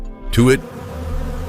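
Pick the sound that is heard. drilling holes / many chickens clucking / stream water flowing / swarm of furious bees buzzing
swarm of furious bees buzzing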